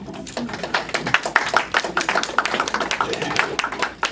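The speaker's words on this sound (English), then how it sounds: "A round of applause." Scattered hand claps from a modest audience at a press event held by the New York Attorney General, steady and fairly close, with no speech over them.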